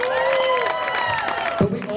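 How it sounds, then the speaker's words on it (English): Crowd at an outdoor Disability Pride festival clapping and cheering, with whoops and shouts rising over a wash of applause; voices and a sharp shout stand out near the end. "Let's get a round of applause for affordable housing."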